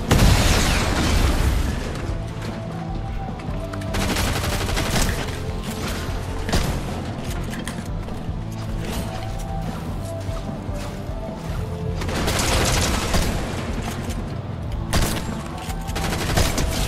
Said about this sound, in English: We got shots on both sides, east and west.